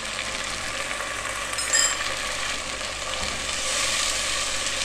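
A spoonful of cumin seeds frying in hot oil in a pan for moong dal, giving a steady close sizzle with a brief brighter crackle and a slight rise toward the end.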